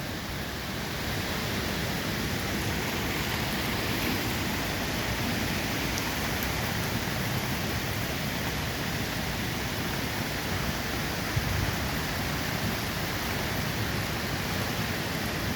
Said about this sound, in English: that rain is a little chilly. I'm getting sprinkles.